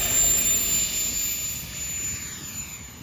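A 3D-printed VTOL RC trainer model plane, upscaled to 120%, takes off and climbs fast, its motor giving a loud high whine that fades slightly as it moves away.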